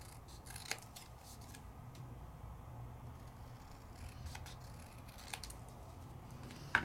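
Scissors snip through paper for a craft card project, a few sparse quiet cuts spread over a faint room background, ending with a sharper clack.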